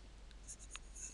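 Marker or pen writing on a board during a probability lecture, a faint run of short scratchy strokes over a steady low hum, no voice.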